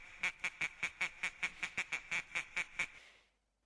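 A duck quacks about thirteen times in a quick, even series, each quack loud, close and nasal, before the sound fades into silence.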